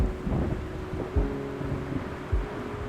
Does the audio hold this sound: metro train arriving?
no